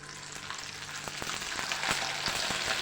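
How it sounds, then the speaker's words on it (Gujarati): Sabudana papad fry in hot oil with a steady, close crackling sizzle and scattered sharp pops, with no voices. "બીજું પાપડ પણ તળી લઈશું"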